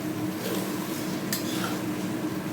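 Spice paste being stirred and fried in a pan for an egg and poppy-seed curry, with steady scraping of a utensil against the pan over a continuous low sizzle and a few sharper clinks of metal.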